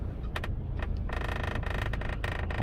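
Panoramic sunroof of a Mercedes E-Class W212 rattling while the car reverses, a series of close, sharp rattling bursts over a continuous low engine rumble, with no talking.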